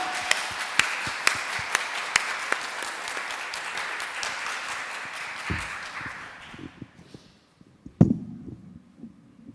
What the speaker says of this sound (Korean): 우리 뜨겁게 격려의 박수 부탁드립니다